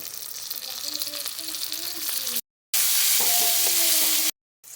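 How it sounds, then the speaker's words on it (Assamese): Onion, ginger-garlic-chili paste and tomatoes fry loudly in a pan for a chicken curry, a dense steady hiss that cuts out twice, with faint tonal notes running over it. "এইখিনি কেঁচা গোন্ধটো যোৱালৈকে ভাজি ল'ম।"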